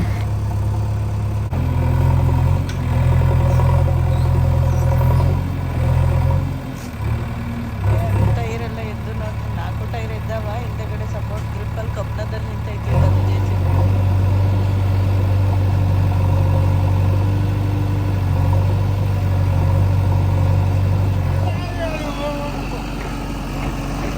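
A JCB excavator works in a plantation, its engine droning steadily at close range with low rumbling throughout and brief dips as the load shifts, while people talk over it.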